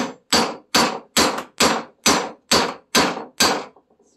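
Nine sharp, evenly spaced hammer blows ring out in a steady rhythm, each a loud metallic strike with a brief ringing decay, knocking a U-joint cap out of the yoke, close up and with no talking.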